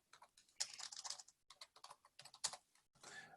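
Close, quiet typing on a computer keyboard, with quick bursts of key clicks separated by short pauses as commands are entered, and no talking.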